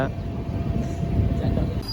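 Train at Katpadi railway station in India, a loud continuous rumble of rolling wagons and rail noise filling the platform, close by and steady throughout.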